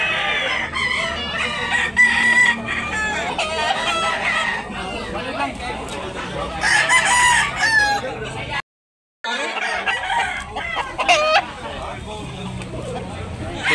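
Roosters crow and cluck repeatedly at a gamecock market in Tabunok, Talisay, Cebu, surrounded by a busy hubbub of people talking close by, with a brief drop-out midway.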